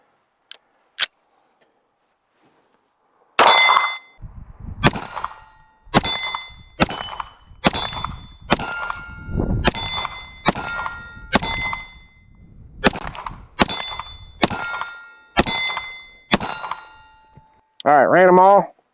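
A full magazine fired from a handgun carrying a Fenix GL06-365 compact mounted light at an outdoor range: a dozen sharp, loud shots in a steady rhythm with short gaps, followed by brief speech.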